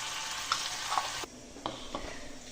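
Vegetables sauté in a hot pan as turmeric powder is added, with a steady, close sizzle and a few soft scrape clicks; the frying quietens partway through, then carries on with light stirring taps.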